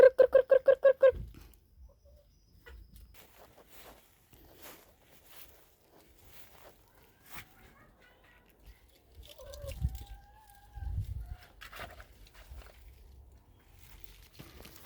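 Chickens cluck and scratch about in a vegetable garden of pechay, mustard greens and onions after rain, soft intermittent clucks and footsteps near and far, with a voice first calling to them in repeated rhythmic bursts and then brief talk.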